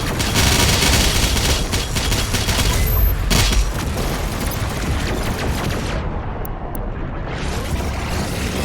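Dense, loud barrage of grenade blasts and rapid gunfire in DOOM Eternal, a continuous roar of explosions with a heavy low-end rumble sustained throughout, with no talking.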